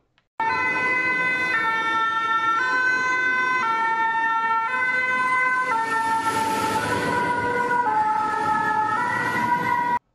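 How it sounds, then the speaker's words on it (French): A loud fire truck siren wails in a repeating two-tone pattern as the vehicle passes close by, its pitch dropping after it goes past. "écouter le son correspondant à cette animation d'un camion de pompiers avec sa sirène passant devant un observateur"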